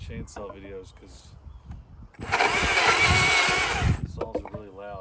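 Chainsaw cutting limbwood on a saw buck, a loud sustained whine kicking in partway through after quieter moments with a voice talking, then dropping off near the end as speech returns.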